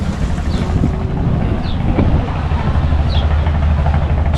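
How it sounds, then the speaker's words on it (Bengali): A cargo trawler on the Buriganga River chugs with a steady low engine drone under heavy wind buffeting, continuous and loud, with a few faint high chirps over the rumble. "মালবাহী ট্রলার"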